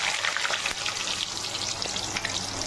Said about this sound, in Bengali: এবার আলুটা দিয়ে দিলাম।